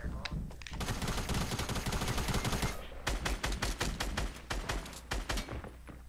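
Gunfire in a video game: dense, loud rapid bursts of automatic shots close by, with a brief pause partway before more volleys of sharp cracks resume.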